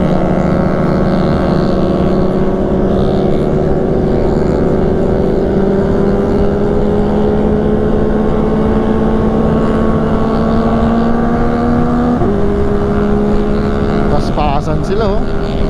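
Loud engine drone of motor scooters revving and racing past on a road, pitch rising and shifting as they speed by, with a sharper burst near the end.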